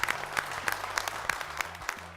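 A studio audience claps for the guests arriving on a Tamil TV talk show. The applause is steady and fairly loud and fills the whole stretch, with no one talking over it.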